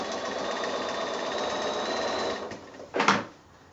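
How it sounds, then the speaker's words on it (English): A sewing machine stitches a quilt with a steady, close, buzzing whir for about two and a half seconds, then stops, followed by a brief louder mechanical clunk. "I'm going to stop stitching about a quarter of an inch before the end"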